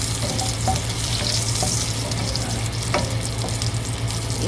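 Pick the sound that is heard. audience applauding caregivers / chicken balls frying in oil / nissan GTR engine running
chicken balls frying in oil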